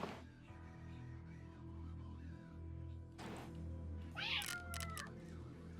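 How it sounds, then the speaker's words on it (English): A cat meows in a drawn-out, unhappy wail near the end, with a low steady hum underneath during a Tarkov gameplay session. "the cat doesn't seem very happy"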